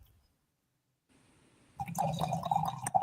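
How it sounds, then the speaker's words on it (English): Wine splashes into a glass after a near-silent start, a close, bubbling glug and trickle that swells in and continues unevenly to the end. "the way it sounded when she poured it into the glass"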